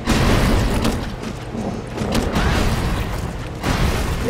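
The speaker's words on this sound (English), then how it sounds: "This is what sucks about the grenade launcher, though." Grenade launcher fire in the game The Expendabros, heard as loud, sustained booming rumbles with dense blasts across the whole stretch and no talking.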